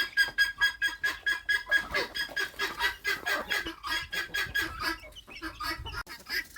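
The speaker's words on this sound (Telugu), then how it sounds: "చూడండి ఇప్పుడు కోళ్ళు ఎలా తింటున్నాయో అర్థమవుతుంది." Chickens cluck and call continuously while feeding on azolla at a farm tank, a busy, fairly close flock sound with overlapping calls throughout.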